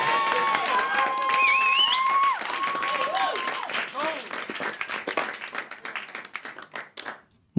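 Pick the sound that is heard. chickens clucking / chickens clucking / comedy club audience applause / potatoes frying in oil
comedy club audience applause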